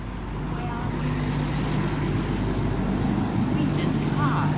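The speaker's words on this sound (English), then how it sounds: "we just pause till the truck leaves." A truck passes nearby on a road, a steady heavy engine rumble with broadband road noise that builds and holds, with a voice speaking over it.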